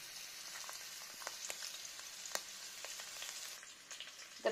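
Garlic and onion frying in about five tablespoons of oil in a kadai for chilli garlic prawns, a soft steady sizzle with occasional crackles and light utensil taps, fairly faint, no talk.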